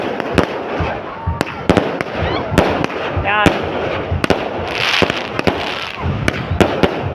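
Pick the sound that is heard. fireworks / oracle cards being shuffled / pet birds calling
fireworks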